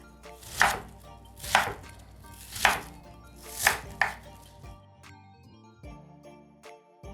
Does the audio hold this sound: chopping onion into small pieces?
yes